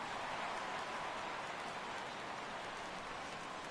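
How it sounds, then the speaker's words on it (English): Steady rainfall in the MLB The Show 17 baseball video game, a constant soft hiss of rain on surfaces, even and continuous with no talk. "The rain is intensifying right now."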